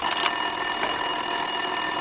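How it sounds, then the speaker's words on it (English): A telephone rings on a detective's desk in Max Payne 2, a steady electronic ring with a sustained high tone, heard alone and fairly loud. "Winterson's phone was ringing."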